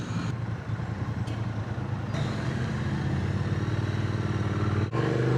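A Triumph Speed Twin 900 parallel-twin engine running under way, a steady deep rumbling drone with wind buffeting, continuous and close, with a brief dropout near the end.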